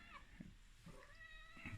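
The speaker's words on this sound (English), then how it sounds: "The cat's involved in this as well. You can hear her meowing in the background." A pet cat named Anakin meows several times, short faint calls far in the background over a steady low hum.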